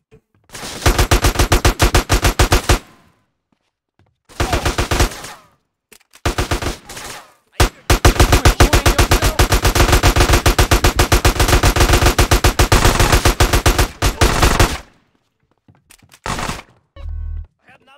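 Automatic machine-gun fire in Grand Theft Auto: San Andreas, loud and close, in long rattling bursts with short gaps between them, ending with a low thump.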